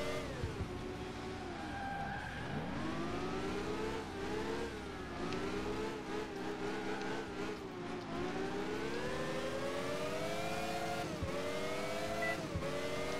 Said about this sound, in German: Vor allem dieses Schaltgeräusch ist einfach so fucking awesome.